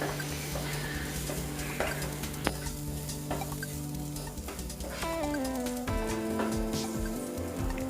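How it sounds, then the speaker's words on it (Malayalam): Chicken 65 mixture with lemon juice and salt stirred in a bowl: steady close scraping and mixing with light clinks of utensil on dish, alone without speech. "ഇനി ഇതെല്ലാം നന്നായി മിക്സ് ചെയ്ത് കൊടുക്കാം"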